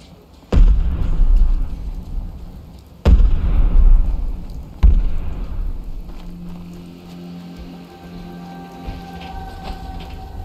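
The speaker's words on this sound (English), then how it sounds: "There's explosions going on everywhere." Explosions in the video game Fallout 4: three heavy booming blasts land in quick succession, each with a rumbling decay, followed by a lower, quieter rumble and hum as the sound settles.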